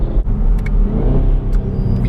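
Loud 2017 Camaro ZL1 with 10-speed automatic under light throttle, a steady engine drone and whine rumbling close inside the cabin throughout.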